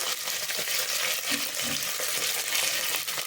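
Small onions, garlic and curry leaves sauté in a pan, giving off a continuous crackling sizzle at close range with a few faint stirring sounds and no voices.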